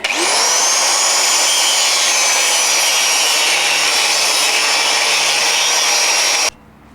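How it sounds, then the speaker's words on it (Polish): A power saw cuts frame material at a 45-degree angle, giving a loud, continuous high whine that holds steady for about six seconds and then stops abruptly. "jednak tnę pod kątem 45 stopni"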